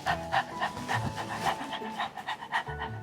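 A dog pants in quick, rhythmic breaths, close and fairly loud, with a steady run of short puffs throughout.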